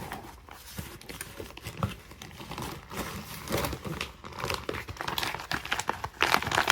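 Emergency blanket packaging from a car survival kit being handled, with close, irregular crinkling and crackling of thin foil plastic that grows busier toward the end, no speech.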